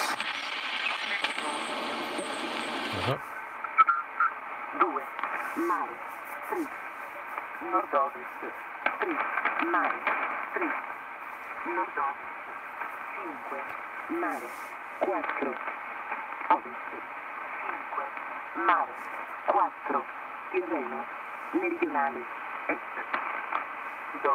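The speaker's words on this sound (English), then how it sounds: "Data signals everywhere." Continuous hissing radio static on a Sony ICF-2001D receiver laced with chirping, warbling digital data bursts, steady and fairly loud throughout after a brief opening tone.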